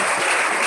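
Dense applause from a congregation at an evangelistic church service, a steady wash of many hands clapping together with no individual claps standing out.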